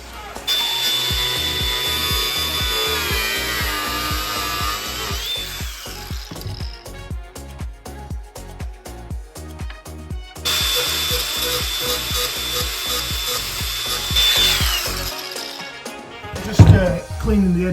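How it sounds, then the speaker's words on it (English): An angle grinder cuts bolts off a caravan floor during flooring preparation. It gives a steady, loud, high whine with rhythmic pulsing in the middle stretch and a brief pause partway through, then revs again, with some talk nearby. "I'm going to grind some of these bolts off"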